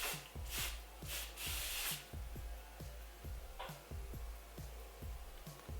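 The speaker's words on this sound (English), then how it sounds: "I'm just kind of smoothing out some of these flyaways" Hands rubbing and smoothing flyaway hairs while styling a pixie-cut pompadour, a soft close brushing friction that comes in repeated strokes over a low steady hum, with no one talking.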